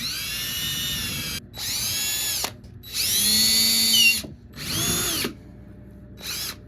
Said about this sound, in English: We ended up with this small montage of me handling a drill with just pure elegance.